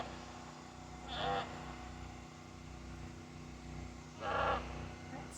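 A goat on a homestead farm gives two short, fairly faint bleats a few seconds apart, rising over a low steady background hum.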